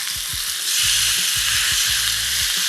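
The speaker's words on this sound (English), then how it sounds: "now we're just gonna sear off the lamb 2 pieces at a time" Lamb pieces searing in olive oil in a cast iron skillet, a loud close hissing sizzle that swells as meat hits the hot oil, with low thumps of handling underneath.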